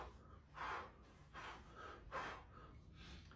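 Sharp, short exhales timed with boxing punches in a training session, several breathy puffs in a steady rhythm, close and fairly faint with no talking.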